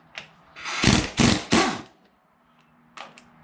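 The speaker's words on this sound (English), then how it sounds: "and very powerful air impact. So we should be able to zap these guys off." An air impact wrench with a 1-1/16 socket zaps bolts loose on a John Deere 830 tractor's main crank bearing, three loud rapid hammering bursts close together, then a brief fainter burst after a pause.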